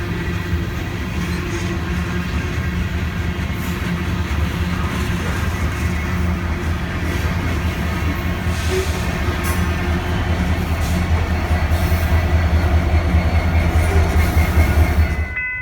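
A freight train rolls past, a loud continuous rumble with rattling wagons and rhythmic wheel clatter, with an SD70ACE locomotive, number 8580, pushing at the rear.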